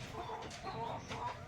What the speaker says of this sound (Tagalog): Then ayun yung mga manok natin.